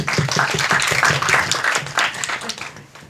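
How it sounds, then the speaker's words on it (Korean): A cinema audience at a post-screening talk for a Korean film applauds in a dense, continuous round of clapping that tapers slightly at the end. "박수 부탁드릴게요"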